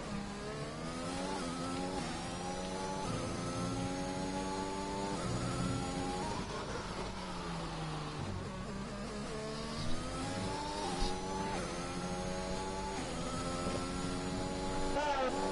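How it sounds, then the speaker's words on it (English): Formula 1 cars racing in the F1 2021 game at Brazil, including a Mercedes flying by: high, whining engine notes that rise and sweep repeatedly as cars pass, loud and continuous. "As that is, I believe, a Mercedes flying by."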